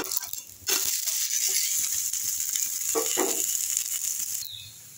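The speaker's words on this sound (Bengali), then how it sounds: "এটা দেখুন আমি সাদা তেল দিয়েই ভাজছি" A bottle gourd snack made with rice frying in white oil, giving a steady bright hiss with a few brief clatters and knocks, close by and no talk.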